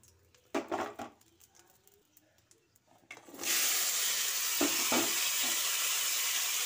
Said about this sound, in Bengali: এগুলোকে ভালো করে ভেজে নেব